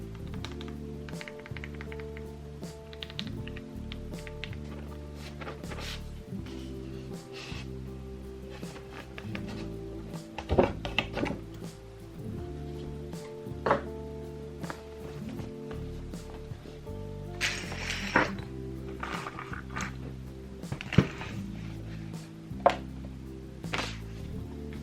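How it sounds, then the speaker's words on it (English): Matcha-themed keycaps are pressed one by one onto a modded mechanical keyboard, giving soft clicks and taps at an uneven pace with a few sharper snaps, close up under steady background music. "So I'm going to put on my matcha keycaps now."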